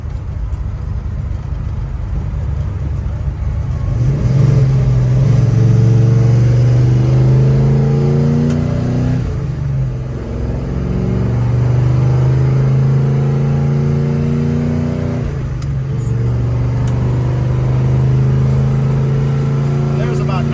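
A 1970 Chevrolet Chevelle SS 454 restomod cruises through rush hour traffic in a tall fifth gear, its big V8 holding a steady low, loud rumble with slight rises and falls in revs while someone talks over it.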